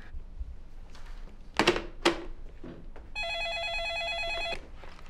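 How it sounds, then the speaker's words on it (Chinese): A telephone rings with a steady, bright electronic warble lasting about a second and a half. A couple of soft thumps, like a door or drawer, come just before it in a quiet indoor room. "小果，你电话。"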